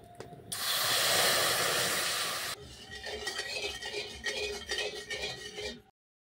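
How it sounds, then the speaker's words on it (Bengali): Water poured into a hot wok gives a loud, bright hiss that bursts up at once, holds for about two seconds and then drops to a softer, fluctuating bubbling and sizzle before cutting off. "কড়াইটা গরম হয়ে গেছে, কড়াইয়ের মধ্যে দিয়ে দিচ্ছি জল।"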